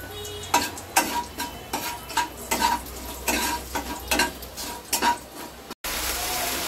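Dry red chillies and whole garam masala crackle in hot ghee in a pan, with a steady sizzle broken by repeated scraping stir strokes and clinks of a spoon against the metal, up close.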